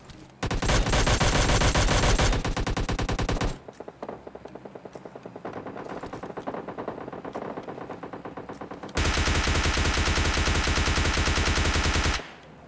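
Gunfire in PUBG Mobile Lite, a squad battle-royale game: two long loud bursts of rapid automatic fire, separated by a quieter stretch of sporadic shots and lighter rattling before the final sustained burst.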